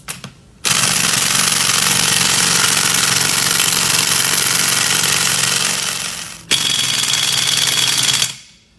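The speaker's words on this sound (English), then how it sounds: "we're just going to tighten it with the gun here." An air impact gun tightens wheel studs during tire and wheel assembly, running in two loud sustained bursts of about six seconds and two seconds, close up with no talking.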